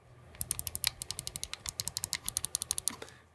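Clicky buttons on MOBAPAD M6 S Joy-Con controllers pressed over and over, a quick, regular sequence of sharp, close clicks under near silence.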